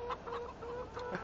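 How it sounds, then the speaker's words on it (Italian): A rooster in the Farming Simulator 17 video game gives short, soft, repeated clucking calls in a farm coop, quiet against a faint background. "Oh, il gallo. Il galletto americano qua."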